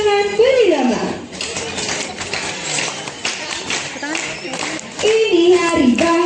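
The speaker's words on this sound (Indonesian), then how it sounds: "Boleh diiringi dengan tepuk tangan berirama." Rhythmic clapping from a group accompanies a singing voice at an animal show at Royal Safari Garden, with sharp, regular hand claps under and between the sung lines, fairly close and loud.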